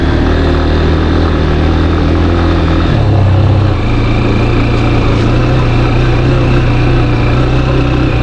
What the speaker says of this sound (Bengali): এই বাইকের ইঞ্জিনের সাউন্ড শুনলে বুঝতে পারবেন